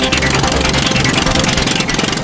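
A Tiger Moth biplane's piston engine running with the propeller turning at about 2,000 rpm, a loud, close, pulsing mechanical drone with a steady rhythmic throb and possible narration over it.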